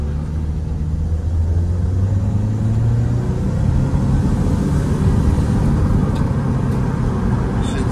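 Nissan Primera P12 accelerating at full throttle from a standstill; a loud, continuous engine rumble with a rising tone that holds through the pull, heard close up without voices.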